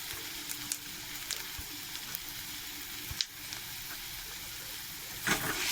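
Grated coconut and potato fry in a pan, a fairly quiet but steady sizzle with occasional sharp clicks and scraping stirs, heard alone without voices.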